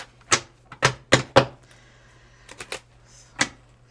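A tarot deck being cut and shuffled: a run of sharp, crisp card slaps and riffles in quick clusters, three or four close together, then a few softer taps and one last snap, close and fairly quiet.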